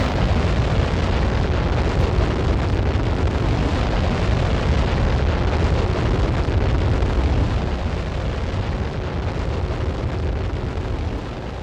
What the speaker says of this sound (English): Okay, ooh, we have liftoff.